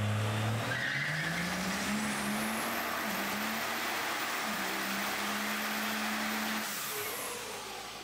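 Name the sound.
diesel drag truck doing a burnout on the dyno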